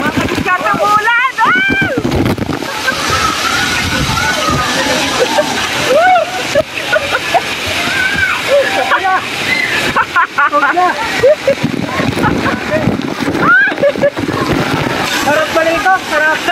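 Water splashes and sprays constantly at the Atlantis waterpark in Dubai as someone gets soaked by a jet. The loud, close rush of water continues throughout, with excited voices and shouting over it.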